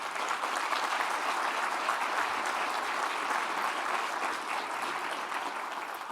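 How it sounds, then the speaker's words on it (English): An audience at the 2022 Livonia State of the City Address keeps up steady, dense applause throughout. The clapping is even and unbroken, sounds moderately distant in a large hall, and no one speaks over it. "a round of applause for the huge effort that this has all taken"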